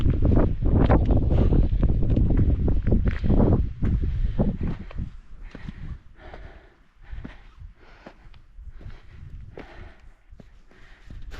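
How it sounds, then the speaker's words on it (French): Mountain gusts of wind on the route to Pic de la Moleta buffet the microphone in heavy bursts at first, then ease into a lighter, fluctuating rush with occasional breathy puffs. "Avec le vent là, ça fait du bien."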